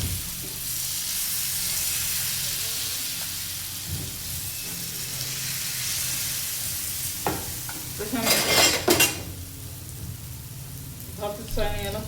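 Besan batter hits hot oil in a pan with a steady, loud sizzle that runs throughout, swelling briefly near the end with sharper crackles and scraping.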